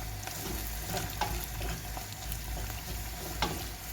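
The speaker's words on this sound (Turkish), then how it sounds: "Salçamızı iyice kavuracağım ben." Homemade tomato paste frying in a pan for a minced meat and pea dish gives a steady, close sizzle, broken by a few sharp scrapes and clicks of stirring.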